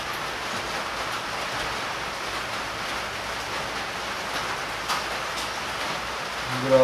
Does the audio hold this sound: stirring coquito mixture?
no